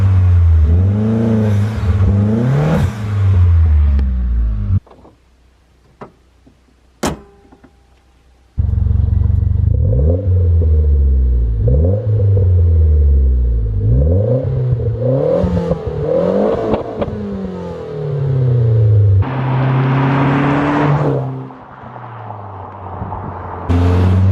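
Mitsubishi Lancer Ralliart with a stock turbo, Evo intercooler piping and a drop-in filter makes repeated loud flybys, its engine revving up and falling away with whistling turbo spool. There is a brief quiet gap between passes.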